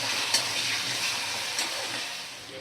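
Carrot and onion fry in a pan for a pasta dish and are stirred now and then, giving a steady, close sizzle with a couple of sharper scraping clicks.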